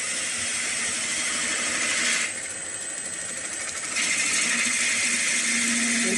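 A wood lathe spins while a half-inch spindle gouge begins cutting into the turning wood, a loud steady motor-driven whir with a harsh cutting hiss that drops away midway, then returns.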